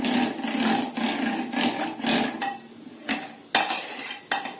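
Yogurt and gram flour batter for Maharashtrian dahi kadhi being whisked in a bowl with a little water, a steady scraping, sloshing texture broken by several sharp utensil clinks against the bowl's side, close and without speech.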